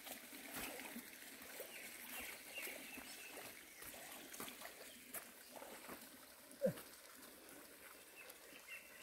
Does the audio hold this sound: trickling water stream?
yes